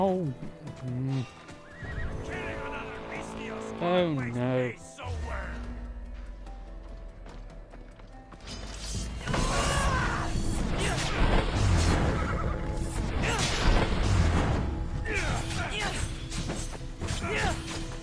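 A horse whinnies and neighs in Assassin's Creed Odyssey, with a clear rising-falling call early on, mixed with clip-clop hooves, crashes and game action, while a person talks excitedly over it.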